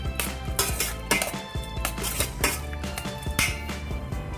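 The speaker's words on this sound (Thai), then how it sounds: "คนน้ำบักนาวให้มันเข้ากันก่อนครับ" Utensil scraping and clinking against a bowl while lime juice is stirred for Thai squid larb, a run of quick close metallic clinks and scrapes in uneven rhythm, with no voices.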